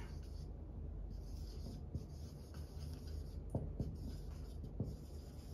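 A pen scratches across paper while a witness statement is written out, soft faint strokes and small taps over a steady background hiss, with no talking.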